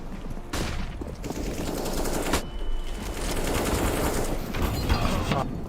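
A flashbang and gunfire ring out in a shooter video game as dense, loud bursts of rapid automatic fire, interrupted by a sharp blast and then continuing volleys. No one speaks.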